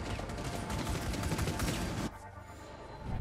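Dense rapid gunfire in Rainbow Six Siege shooting at rubble, a continuous loud burst of shots lasting about two seconds, then stopping abruptly into quieter game ambience.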